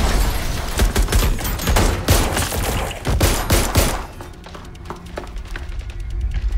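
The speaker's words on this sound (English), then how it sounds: "Dalton, we're breached!" Dense gunfire and sharp bursts ring out during a breach in Watch Dogs Legion, loud and rapid for about four seconds, then thinning to sporadic distant shots and thuds.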